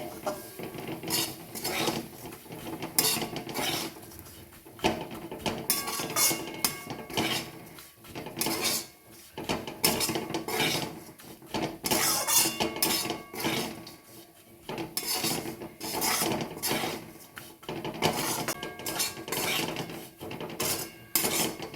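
Vermicelli fried on low heat in a pan is stirred continuously, giving close, repeated scraping and clattering of a spoon against the pan with a faint crackle underneath.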